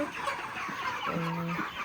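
Chickens on a village poultry farm cluck softly nearby, with scattered short clucks and then one drawn-out squawking call near the end.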